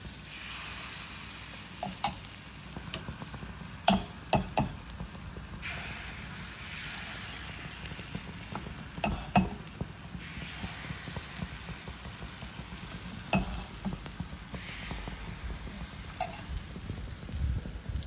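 Paniyaram batter and oil sizzling in the wells of a paniyaram pan on a stove, a steady close frying hiss with scattered small pops and clicks of utensils, no talking.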